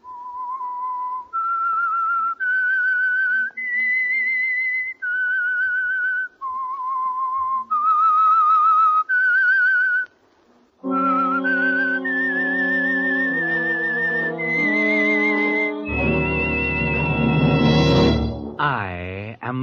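A clear whistled melody of sustained notes, the theme of The Whistler radio drama, is heard alone at first, then joined by an orchestral swell that carries the tune to a rising finish.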